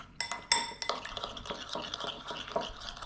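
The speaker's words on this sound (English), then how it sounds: "Mix everything up. I'm using a teaspoon." A teaspoon stirs a mustard mixture in a bowl, making repeated close scraping clinks of metal against the dish in an uneven rhythm for a few seconds, with no talking.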